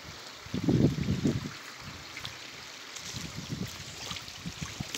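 Rainwater overflowing a small farm dam and spilling into a creek, a continuous gurgling rush with louder low churning bursts early on, heard fairly close and alone.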